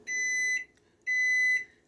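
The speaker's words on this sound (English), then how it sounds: "Okay, so timer's gone off" Two sustained electronic beeps from a kitchen timer, each about half a second long with a brief gap between, clear and close.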